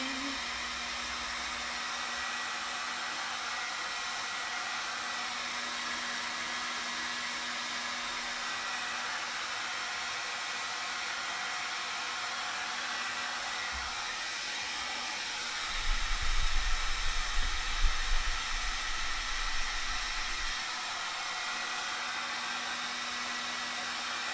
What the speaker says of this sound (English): let's again heat it up until it stops being shiny